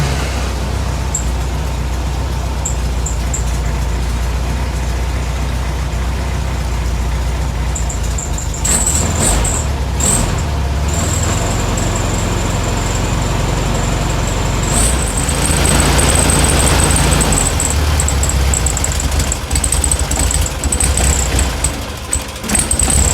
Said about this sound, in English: Let's see if this thing cranks over.